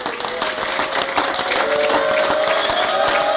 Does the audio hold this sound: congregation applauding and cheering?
yes